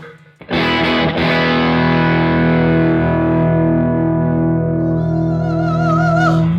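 An electric guitar runs through distortion and effects. One hard-struck chord rings on in a loud, thick, sustained wash, with wavering high bends rising near the end.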